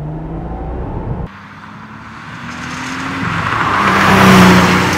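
A 1989 Porsche 911 Turbo Targa with a five-speed gearbox accelerating hard from inside the car, engine tone rising through the gears with an audible shift and growing louder turbo roar, no talk.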